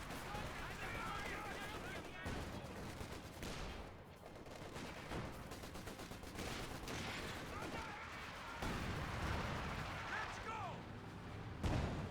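Frag grenade blast in Company of Heroes 2 amid a sustained battle soundscape of rattling gunfire and artillery, with a commentator talking throughout.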